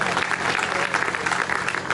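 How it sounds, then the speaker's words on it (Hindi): A crowd applauds at a motivational stage event after a speech, with brief, dense clapping filling the room and faint voices mixed in. "इनके लिए तालियां हो जाए"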